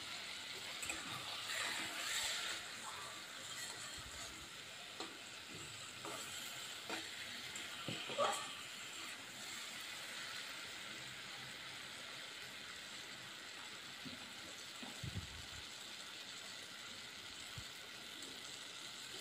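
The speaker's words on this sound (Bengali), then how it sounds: "ভোলটা এখানে আমি ভালো করে ভেজে নিলাম মশলার সাথে" Rohu fish pieces frying with spices in a pan, a steady soft sizzle with occasional stirring scrapes and clinks, continuous and close, with no talking.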